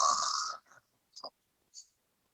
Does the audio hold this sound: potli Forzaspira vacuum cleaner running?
no